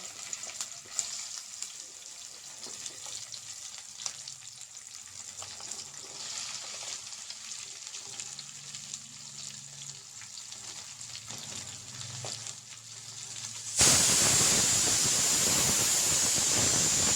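Okra frying in hot oil, a steady close sizzle and hiss that runs throughout and then grows suddenly louder and brighter near the end, as if the pan is stirred or more okra goes in.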